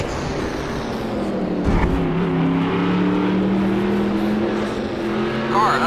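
A winged NASCAR engine in NASCAR Racing 2003 holds a steady, loud drone with a shifting pitch, while a spotter's voice talks over it.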